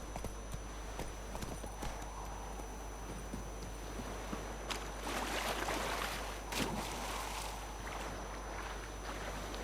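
Roach, the horse in The Witcher 3, galloping with rapid, steady clip-clop hoofbeats on the ground, fairly faint, with a few louder thuds partway through.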